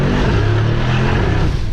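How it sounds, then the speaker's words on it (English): A loud tuned 900 HP Brabus XLP Rocket engine revs hard through its special exhaust, a deep throaty growl rising in pitch as it accelerates close by. "we also have a special exhaust on this, and the sound is great, nice and juicy."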